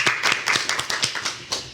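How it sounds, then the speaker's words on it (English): Workshop attendees clap in a short burst, a thin scatter of distinct, close hand claps rather than a full roar, tapering off after under two seconds. "Round of applause for Sahil right now."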